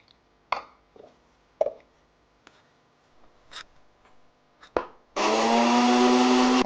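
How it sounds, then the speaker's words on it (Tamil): Scattered knocks and clicks of a mixer grinder jar being set in place give way to a loud, sustained whirring roar as grated coconut is ground for dalcha. "இப்போ தேங்காய் அரைக்க போகிறோம்."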